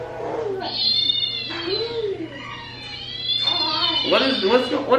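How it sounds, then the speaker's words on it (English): Recorded cat meows played through a speaker, several drawn-out, wavering cries with a tinny edge, a few seconds of repeated calls under and between voices talking nearby. "They hear the cat. Oh, no. But it's not a cat. Yeah, it's a speaker."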